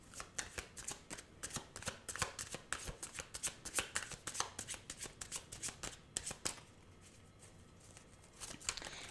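Tarot cards are shuffled close by in repeated quick riffles and flutters of crisp card stock, continuing in bursts for several seconds before easing off, with no talk.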